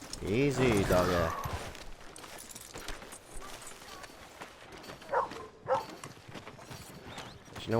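A dog in Red Dead Redemption 2 barks and whines, a burst of loud yelping barks at the start followed by quieter intermittent yips, with game sounds and faint hoofbeats around it.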